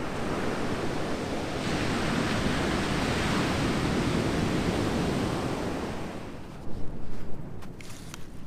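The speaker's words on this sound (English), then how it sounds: "the surf's still up" Ocean surf breaking on a beach makes a loud, steady wash of broadband noise with some wind, fading slightly near the end, where a few brief knocks come through.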